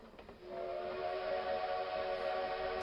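A steady, sustained train whistle or horn with layered tones holds loud and unbroken for nearly three seconds after a brief rumbling start, with no talking.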